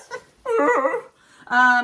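A dog gives short high yips and a drawn-out whining whimper in separate bursts, close and loud, with brief quiet gaps between them.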